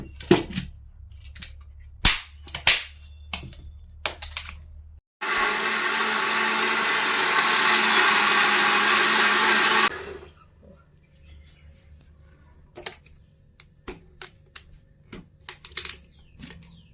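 A kitchen mixer grinder blends chopped ingredients in one loud, steady whirring burst of about five seconds, framed by scattered clicks and knocks before and after.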